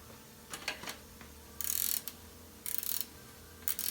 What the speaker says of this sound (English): you can finish it off with the wrench